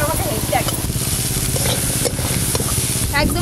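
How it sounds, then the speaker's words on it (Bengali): Crabs with salt and turmeric fry loudly in oil in a karahi, a dense continuous sizzle with stirring scrapes, while a voice speaks over the cooking. "ওই একই তেলে কাঁকড়াগুলোও ভালো করে ভেজে নেব"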